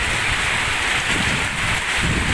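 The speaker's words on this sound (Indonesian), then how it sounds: "Ada hujan anginnya" Heavy rain driven by strong wind, a dense, loud, constant hiss of downpour with gusty roar and no voices.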